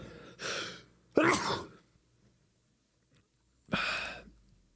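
A person sneezes during a livestream of C++ OpenGL tower defense game development: three loud, close bursts, each about half a second long and spaced apart, followed by quiet room tone, with no speech.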